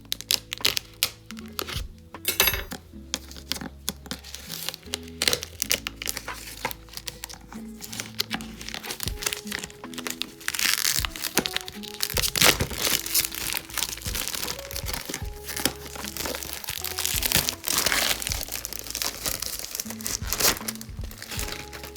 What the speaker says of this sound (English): I'm gonna go ahead and just remove the plastic wrapping here.